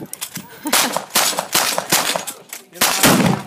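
Pistols fire in a team shooting match, a rapid irregular string of sharp loud shots from close by with brief gaps, some overlapping quickly.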